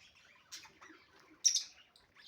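Small caged birds inside a greenhouse give a few faint, thin chirps and tweets, scattered irregularly against near silence, with one slightly sharper call partway through.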